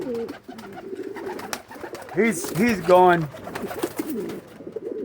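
Buchón pigeon cocks coo in a loft, a few rounded, rolling calls rising near the middle of the clip, close and moderately loud while someone talks around them.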